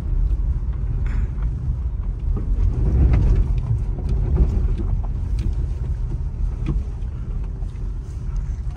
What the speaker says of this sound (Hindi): ये देखो कितनी ज़बरदस्त ऑफ रोडिंग कर रहे हैं